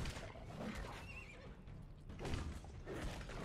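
In the Alice Madness Returns video game, hobby horse weapon strikes land with repeated horse neighs and whinnies and clip-clopping hoof sounds over a busy, dense game soundscape, with no talking.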